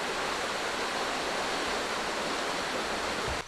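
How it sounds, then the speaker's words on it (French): Water pours over a weir at an old mill, a dense steady rushing roar that stays even throughout, close and fairly loud, with no voices. "La vanne se transforme en barrage et cascade"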